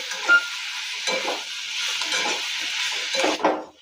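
Boiled potato pieces sautéed with curry leaves in hot oil in a pan, a steady sizzle with soft stirring scrapes throughout, fading near the end.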